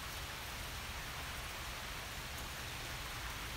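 Steady rain falls outside, a soft continuous hiss with fine pattering spread evenly throughout, fairly quiet and with no voices over it.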